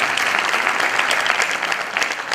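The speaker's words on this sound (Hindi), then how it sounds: "एक बार बच्चे के लिए ताली बजाइए" A hall audience claps for a child who recited the Sunderkand at a devotional discourse, a brief dense burst of applause filling the room with no talk.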